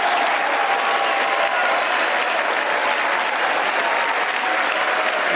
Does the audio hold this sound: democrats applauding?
yes